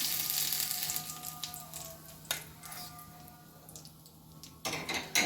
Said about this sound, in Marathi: आपली मेथी दाण्याची छान अशी खमंग फोडणी तयार झालेली आहे। चला आता आपण ही चटणीवर घालून घेऊया।